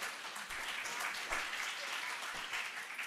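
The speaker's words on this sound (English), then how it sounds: "please give a round of applause to welcome our moderator of panel 1, Dr. Lai Yizhong" Applause from a conference audience at an Indo-Pacific security forum welcoming a panel moderator, a steady wash of many hands clapping at a fairly low, distant level with a few louder claps.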